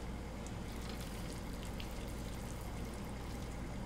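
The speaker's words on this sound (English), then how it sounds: "This is why I'm not straining it completely using a pasta strainer." Pasta water pours off through a pasta strainer in a home kitchen while an alfredo sauce is being made, giving a steady, close, continuous rush of draining liquid with no talk over it.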